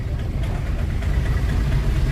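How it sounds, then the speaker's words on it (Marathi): An Eicher truck rumbles past in a queue of vehicles, a loud, steady low engine drone close by, with voices talking over it. "आयशर आहे हा. आयशर चाललाय."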